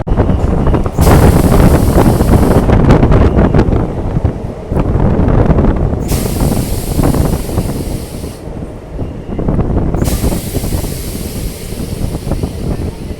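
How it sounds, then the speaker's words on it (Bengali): A MEMU train on the Katwa to Ahmadpur line pulls away from Labhpur station, its steady loud rumble heard from onboard with heavy wind buffeting the microphone in recurring gusts. "আমাদের ট্রেনটা এখন লাভপুর থেকে ছেড়ে দিল"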